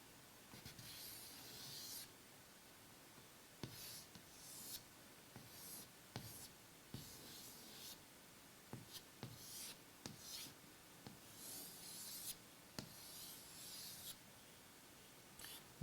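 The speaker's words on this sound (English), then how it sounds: "Let's actually draw something here." Pencil sketching on paper during a dynamic sketching lesson: soft, continuous scratchy strokes with brief pauses and sharper quick marks, close and quiet, with no talking.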